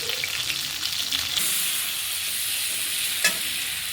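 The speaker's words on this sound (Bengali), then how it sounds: "এবার পরে যে তেলটা ছিল এটার মধ্যে আমি আলুটা ভেজে নিচ্ছি" Potatoes fry in the oil left over from frying hilsa fish, giving a continuous sizzling crackle at moderate level, with a short sharp clink of a utensil near the end.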